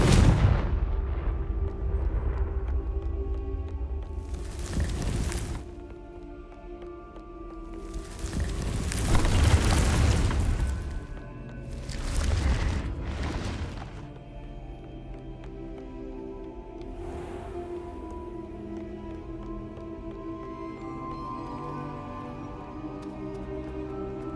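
Confringo spell explosions in Hogwarts Legacy boom out in a rapid cluster of heavy blasts, then trail into a softer rumble with one more distant burst later.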